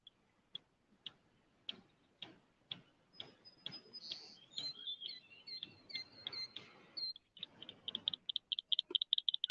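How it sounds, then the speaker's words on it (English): Birds chirp and twitter outdoors in quick high repeated phrases that grow busier toward the end, over a steady series of sharp ticking clicks; no talking. "I was listening to the birds, while watching, and it sounded fine to me."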